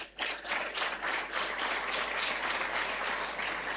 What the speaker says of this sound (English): Yes, clap them.